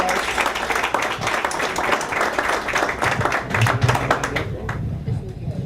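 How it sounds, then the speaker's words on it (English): Applause at a lunch meeting, with distinct individual claps from a nearby group blending into general clapping, while voices talk over it and the clapping thins out toward the end. "let's give Stacy a big round of applause"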